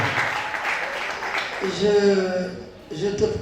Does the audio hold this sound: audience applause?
yes